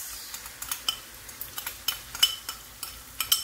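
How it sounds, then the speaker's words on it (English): Spices are stirred into meat in a pot while cooking pilau, giving rapid, repeated scraping strokes and light clinks of a utensil over a faint sizzle, close and without talk. "So you put them to your meat and you stir them"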